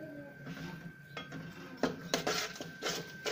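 A spoon mixes pizza sauce ingredients with black pepper and ground red chilli in a bowl, clinking and scraping against the sides in irregular bursts, louder toward the end.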